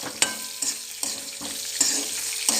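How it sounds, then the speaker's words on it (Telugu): Green and dried chillies, cumin and coriander seeds frying produce a steady close sizzle, broken by about six regular spoon taps and stirring scrapes against the pan. "పచ్చిమిరపకాయలు, ఎండుమిర్చి, జీలకర్ర, ధనియాలు దోరగా వేగాలి."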